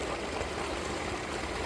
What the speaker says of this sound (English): see the water just going.